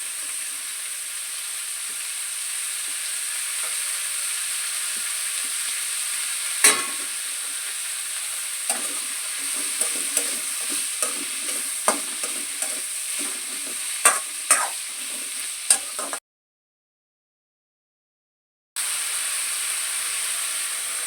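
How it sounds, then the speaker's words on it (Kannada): Garlic and ginger fry in a hot pan for a chana masala gravy, giving a continuous sizzle and hiss with a run of sharp stirring clacks in the middle, then a brief silence before the sizzle returns. "ಅದಕ್ಕೆ ಬೆಳ್ಳುಳ್ಳಿನೂ ಮತ್ತು ಶುಂಠಿ ಎರಡು ಹಾಕ್ಕೊಳ್ತಾ ಇದ್ದೀನಿ."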